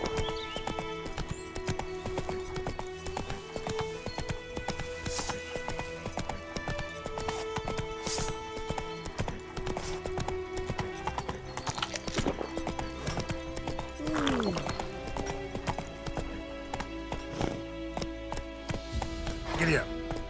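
Rhythmic clip-clop of a galloping horse in The Witcher 3 video game runs steadily throughout, with occasional whinnies and a rider's shouts over the hoofbeats.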